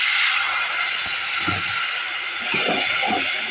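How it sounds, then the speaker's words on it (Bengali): A spice mix goes into a hot pan where onion is already browning, giving a steady sizzling hiss with a few soft stirring knocks underneath. "এখন আমি মশলাটা ঢেলে দিলাম"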